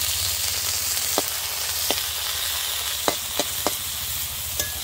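Cashews and raisins frying in a pan for fried rice, with a steady close sizzle and a few sharp clicks of a spoon stirring.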